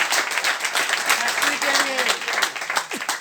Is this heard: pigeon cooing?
no